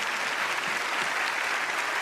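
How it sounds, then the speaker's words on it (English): A theater audience applauds magicians in a dense, steady wash of many hands clapping, loud and continuous throughout with no voices breaking through. "Give them a round of applause,"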